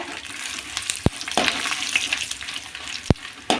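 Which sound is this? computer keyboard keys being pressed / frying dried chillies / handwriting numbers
frying dried chillies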